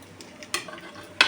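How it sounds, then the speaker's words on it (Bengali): Whole spices, bay leaf, dried red chili, cumin and crushed garam masala, fry in hot oil with a soft sizzle, punctuated by two sharp spatula stirs against the pan. "মশলাটা ভাজা হয়ে গেছে"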